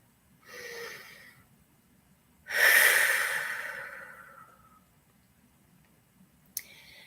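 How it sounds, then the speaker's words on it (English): A slow, deep breath during a guided meditation: a soft inhale, then a longer, louder exhale that fades gradually, close and alone in a quiet room, followed by a small click. "And just take a deep breath."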